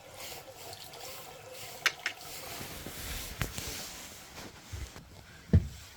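Hot water running from a household tap fed by a Ferroli boiler, a soft continuous trickle with a few clunks and splashes scattered through, quiet and close.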